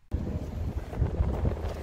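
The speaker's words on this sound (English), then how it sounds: "Windy." Wind blowing outdoors batters the microphone with loud, low, gusty roaring that surges and fades after a sudden onset, with no other sounds.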